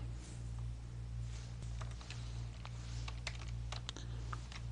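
Computer keyboard typing during data entry in accounting software, with a quick run of distinct key clicks and Enter presses over a steady low electrical hum, close and fairly quiet.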